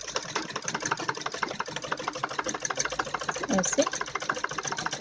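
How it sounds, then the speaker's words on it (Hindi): A sewing machine stitches a straight seam along the neckline of a kurti, its needle rattling in a fast, even, continuous rhythm close up while someone speaks over it. "तो उसी हिसाब से ऐसे हमें इसके ऊपर सीधी सिलाई लगानी है"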